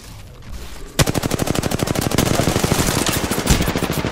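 Rapid automatic gunfire in the Apex Legends game, a long sustained burst of evenly spaced shots starting after a brief quiet moment, loud and close, with a second weapon briefly overlapping.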